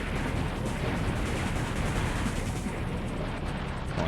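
Cannon fire in the shooter game Einhander forms a dense, continuous barrage of booming blasts that runs steadily throughout, loud and close with no pauses.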